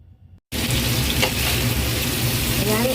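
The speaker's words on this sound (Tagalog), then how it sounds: "Ayan, iprito lang." Beef sizzles in hot cooking oil in a frying pan, starting abruptly after a brief quiet moment and then crackling loudly and steadily up close.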